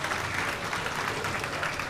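Steady, sustained applause from a crowd at a jiu-jitsu invitational competition, a dense continuous clapping wash with no pauses, filling the whole moment.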